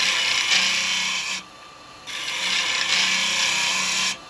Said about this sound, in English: And I'm still cutting plenty of wood.